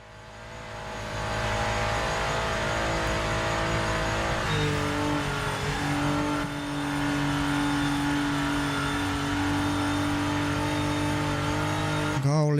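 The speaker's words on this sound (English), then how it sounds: "Go, little Porsche, go. Faster." A Porsche race car engine in a racing video game, revving loud and steady, with a gear change partway through that shifts the pitch before the sustained drone continues.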